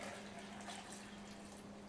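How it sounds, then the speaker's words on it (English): Three cups of water being poured over apples in a container, giving a steady, quiet running and filling sound with a faint tonal hum underneath, no voices. "And then we're going to go ahead and fill in the water."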